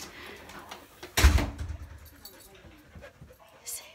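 A pet dog pants up close in quick breathy puffs, with a loud thump or door-like bang partway through and soft background noise.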